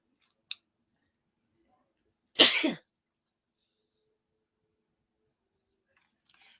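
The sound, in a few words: sneeze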